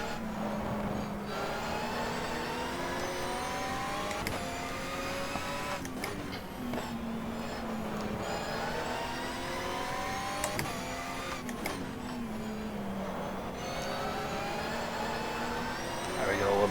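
A Lister race car in GTR2 at Enna Pergusa accelerates with wheel spin, its engine note climbing and dropping through repeated gear shifts, loud and close for the whole stretch.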